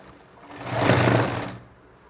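A sewing machine runs one short, smooth burst of stitching on a nightie collar. It swells and fades over about two seconds, close and alone.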